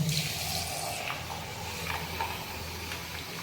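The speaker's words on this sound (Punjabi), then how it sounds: "ਇਹਦੇ ਚ ਪਾ ਦਈਏ ਪਾਣੀ" Water runs steadily into a pot of almonds set to soak, a continuous close hissing pour with no pauses.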